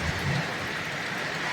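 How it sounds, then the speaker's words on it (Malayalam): Heavy thunderstorm rain, a dense steady broadband roar of downpour with low rumbling, continuous and close, no voices. "ഇടി മഴ മിന്നൽ, ഇടി മഴ മിന്നലൊക്കെ"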